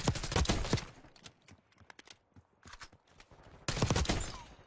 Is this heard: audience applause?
no